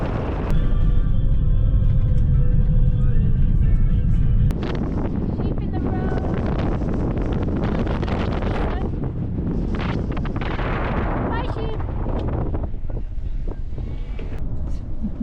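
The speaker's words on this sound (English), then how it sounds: "I'd film outside, but it's incredibly windy." Strong wind at John O'Groats in Scotland, heavy gusts buffeting a campervan and the microphone in a constant low roar, with people talking over it.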